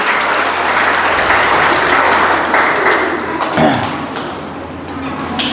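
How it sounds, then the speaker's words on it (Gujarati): An audience at an organisation's gathering claps steadily to welcome a guest, a dense, sustained round of applause with a few louder claps standing out toward the end. "આપણે સૌ તેમનું તાળીઓથી સ્વાગત કરશું"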